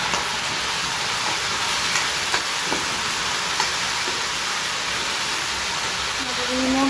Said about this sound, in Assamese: দালি ভাজিছোঁ।